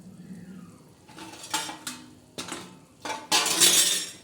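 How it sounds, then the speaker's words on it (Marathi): A metal lid is set on a cooking pot of usal, a spicy sprouted-bean curry, with several light clinks and scrapes that build to a louder final clatter. "आता तिला आपण त्याच्यावर झाकण ठेवूया"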